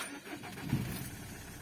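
A Citroën C5 X7 engine cranks and catches in one short burst, then settles into a steady idle close by.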